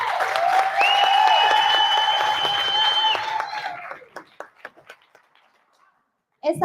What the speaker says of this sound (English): I want you guys to give a hot round of applause for number 3